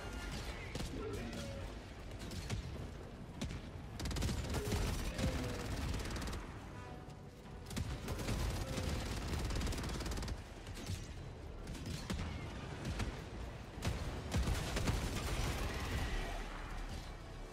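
Rapid gunfire and bursts of machine-gun fire in the video game Helldivers 2, sustained and dense through most of the stretch with brief lulls, mechanical clanks mixed in and a voice talking faintly underneath.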